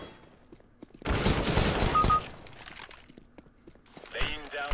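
Gunfire in Counter-Strike: Global Offensive, a dense loud burst of shots lasting about a second amid game noise, followed by quieter rattling and a brief later flurry.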